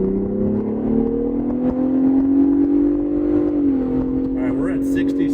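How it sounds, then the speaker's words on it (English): A 2023 Ford Bronco Raptor accelerating from a slight roll up to about 60 mph in traffic, its engine drone climbing steadily in pitch with a brief dip near the end, heard from inside the cabin. "we're gonna do a real quick 0 to 60 if we can"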